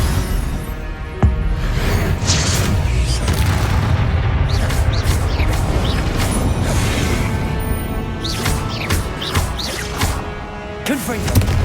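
Confringo fire explosion spells burst in Hogwarts Legacy, loud booming blasts and crackling whooshes piling up continuously amid dense game music and effects, with a voice calling out the spell names over the din.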